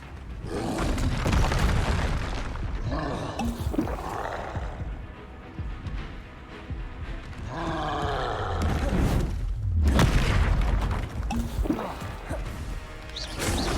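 Confringo spells in Hogwarts Legacy go off as a string of loud, booming blasts with crashing debris and rumbling tails, overlapping with other game effects and a voice at times.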